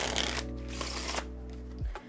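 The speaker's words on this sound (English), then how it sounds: "you can do a double undercut, just like normal, and control it to the bottom like that" A deck of playing cards is cut in a double undercut, making quick, crisp riffling slaps and papery snaps over about two seconds. A low steady hum sits underneath and no one talks.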